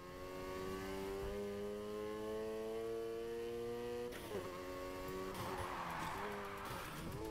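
A car in the racing game Need for Speed Heat holds a steady, droning high-revving engine note. The engine then shifts pitch and gives way to a rougher skidding roar as the car slides into a drift.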